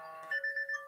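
A short electronic alarm sounds alone: steady tones, then a few rapid, evenly spaced beeps at moderate loudness in a quiet room.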